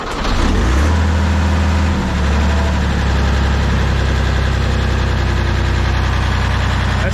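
A Bomag BW213 compactor's diesel engine cranks and catches within the first second, then settles into a loud, steady, low idle that runs alone to the end.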